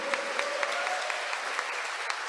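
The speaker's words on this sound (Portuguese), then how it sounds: "Nossa Senhora merece uma salva de palmas" A church congregation at a feast-day Mass claps for Our Lady, steady rhythmic applause with distinct individual claps, a faint sustained tone running beneath.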